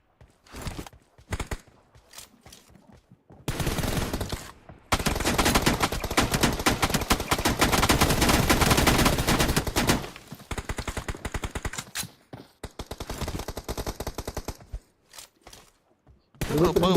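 Gunfire in the BGMI mobile battle royale game during a team deathmatch, with bursts of rapid automatic shots broken by pauses and a long sustained volley in the middle, loud and close.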